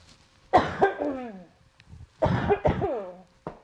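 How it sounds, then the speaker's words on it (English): A person coughs in two bursts, a few harsh coughs each, close to the mic with short pauses between. "Now I have to cough again"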